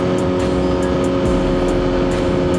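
A Suzuki GSX-R1000 sport bike cruises with a steady engine drone and wind rush, close and constant, no voices.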